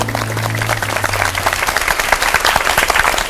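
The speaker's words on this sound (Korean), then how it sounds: "박수합시다" A congregation applauds at a church revival meeting: loud, lively group clapping with some distinct individual claps, starting under a fading sustained tone and growing fuller for a few seconds.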